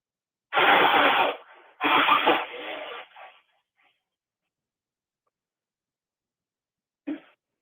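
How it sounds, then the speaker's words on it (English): Two loud, forceful bursts of nose blowing close by, each trailing off, followed by a brief sniff a few seconds later. "I got to blow my nose"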